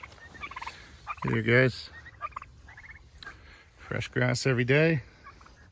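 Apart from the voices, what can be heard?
young turkeys gobbling on pasture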